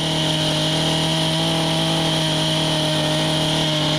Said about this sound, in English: It's an older saw. It's actually an arborist saw, but it's light and still has enough power to do what I need for it to do.